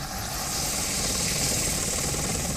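Apache attack helicopter in flight, giving a steady, loud broadband rotor and engine roar that holds constant throughout with no voices.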